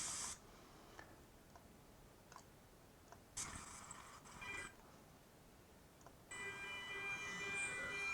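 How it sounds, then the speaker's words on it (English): At a railway level crossing, an alarm's repeated ticking pulses sound faintly, growing into a sustained ringing tone toward the end over a quiet outdoor background. "Here's the level crossing alarm."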